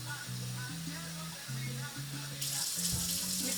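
Tap water runs steadily into a sink while rice is rinsed, a continuous close splashing rush with faint background tones under it.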